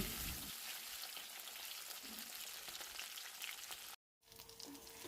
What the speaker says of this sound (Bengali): বাদবাকি মাছগুলো কিন্তু একইভাবে কড়া করে ভেজে তুলে নিচ্ছি